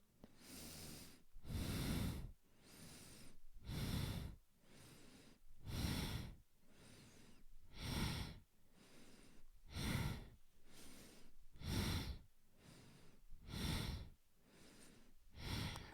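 Slow, steady breathing during Kundalini yoga practice: a regular cycle of long inhales and exhales about every two seconds, close and distinct, with no voices.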